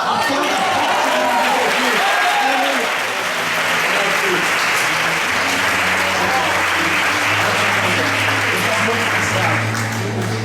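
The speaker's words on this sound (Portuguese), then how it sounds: "Vamos aplaudir." A church congregation applauds loudly during a healing service, sustained dense clapping and crowd noise, with a droning organ-like tone and scattered voices underneath.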